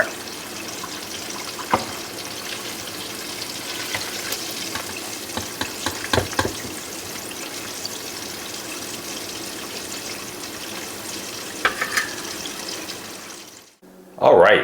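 Ribs bubbling and sizzling in a deep fryer, a steady crackling hiss of hot oil with occasional louder pops and stirring clatter, close by, ending in a brief knock.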